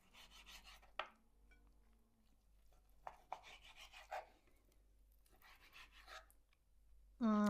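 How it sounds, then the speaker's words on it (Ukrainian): Kitchen knife cutting meat into small pieces on a board: soft, scattered chopping and scraping taps, close and quiet, with a sharper louder sound breaking in at the very end. "зараз наріжу м'ясо маленькими шматочками."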